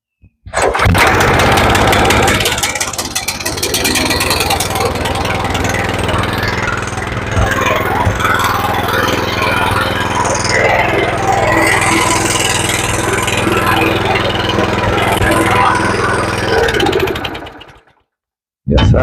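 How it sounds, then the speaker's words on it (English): A $700 stump grinder roars continuously as it chews away at a tree stump, a loud sustained engine drone with gritty grinding texture for about seventeen seconds before cutting off abruptly. "See if we can just grind that stump away without cutting it."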